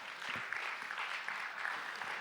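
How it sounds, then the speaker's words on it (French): Quiet applause from a church audience at a French-language parish vision gathering, a brief, soft wash of many hands clapping, somewhat distant and steady. "On lui donne une bonne main d'applaudissement."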